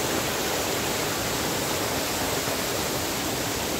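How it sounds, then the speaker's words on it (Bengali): A waterfall near Gangtok roars steadily and close by, a dense, even rush of falling water that fills the whole stretch with no breaks and no voices. "পানি প্রচুর শব্দ"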